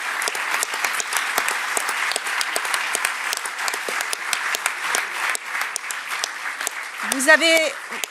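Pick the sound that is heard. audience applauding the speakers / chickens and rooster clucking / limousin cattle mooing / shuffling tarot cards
audience applauding the speakers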